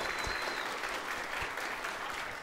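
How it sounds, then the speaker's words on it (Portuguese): Dense, continuous applause from a comedy show audience, a steady wash of many hands clapping at once, fairly distant and even in level throughout. "Salva de palmas"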